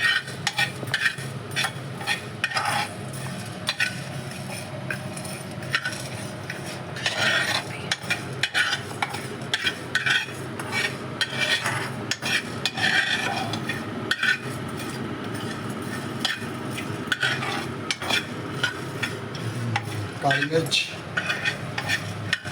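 Coriander and cumin seeds are dry-roasted in a pan, stirred with a steady rattling scrape, light crackle and occasional metallic clinks, up close and continuous for a long stretch with no voices.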